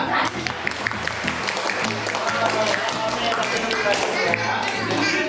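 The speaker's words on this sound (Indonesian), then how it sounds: "Tepuk tangan untuk kelompok buaya." A classroom group applauds the crocodile team, a steady burst of clapping that runs through the whole stretch, with voices talking over it.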